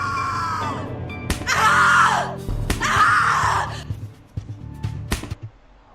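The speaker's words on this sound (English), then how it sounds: "Scream louder, little bitch. Scream your lungs out." A woman's drawn-out screams from the horror video game The Cat Lady, two long loud wails in quick succession with a groaning, distorted voice and low rumble around them, fading into scattered clicks.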